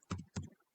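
Keys tapped on a computer keyboard while entering a website address, heard as two short quiet bursts of clicks a fraction of a second apart, close and otherwise silent.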